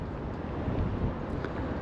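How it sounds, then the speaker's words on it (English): Wind blows outdoors beside a service centre, a constant low rumbling buffet against the microphone, steady and fairly loud throughout with no voices. "Bit windy."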